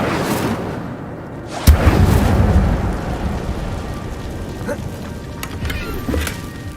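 A fire spell bursts with a sudden whoosh and rumbling roar in the video game Hogwarts Legacy, followed by a crackling, noisy wash of flame and combat ambience, loud and close.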